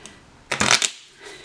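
A quick burst of cards riffling together, loud and close, lasting under half a second amid quiet room tone.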